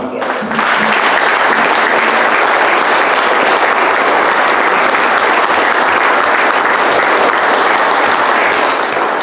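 Sustained, loud applause from a banquet audience at a boys soccer awards event, starting abruptly and continuing steadily throughout without spoken words.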